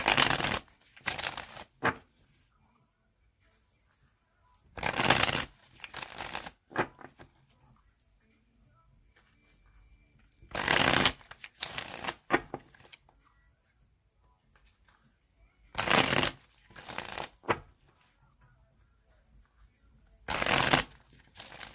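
Bursts of tarot cards being shuffled, riffled in quick crisp clusters, repeating several times with quiet pauses between, close and fairly loud.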